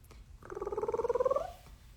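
A cat purr plays once as a classroom sound effect, a single rumbling, pulsing purr about a second long, fairly loud and close, with no talk over it.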